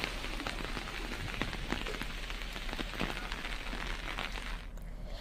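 Heavy monsoon rain pours on surfaces during flooding at Narkatiaganj near Bettiah in Bihar, a loud dense hiss with scattered close drops pattering throughout before easing slightly at the end.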